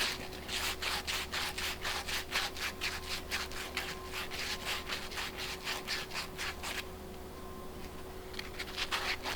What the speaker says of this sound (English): Just got to give this tube a bit of a sand up so that the solder and flux will stick to it.